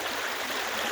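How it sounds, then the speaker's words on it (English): An overfull backyard creek rushes after a full day of heavy rain, a loud, continuous broadband roar of churning water with no breaks. "this is what happens to our creek when it rains a whole lot all day."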